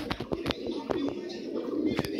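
Soft cooing from a high-flyer pigeon recurs in short low bursts among scattered clicks and rustles, close by and fairly quiet.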